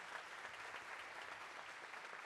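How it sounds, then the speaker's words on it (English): Steady audience applause at a school steel band concert, dense and continuous from start to finish at a fairly low, distant level, with no talk over it. "Let's give a round of applause, please,"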